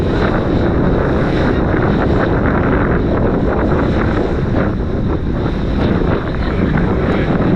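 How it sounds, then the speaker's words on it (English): Strong wind buffeting the microphone in a constant loud roar, with the rush of water and an engine hum underneath, on a boat off Milos, Greece. "Very windy."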